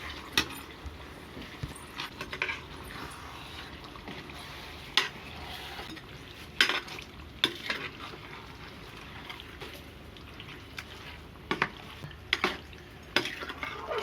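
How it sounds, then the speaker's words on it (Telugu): Chicken being stirred in a frying pan gives soft scraping and occasional sharp clinks of a spoon against the pan over a low steady background, close and fairly quiet, with no talking. "చికెన్ మొత్తం వేసిన తర్వాత ఒకసారి తిప్పుకోవాలి"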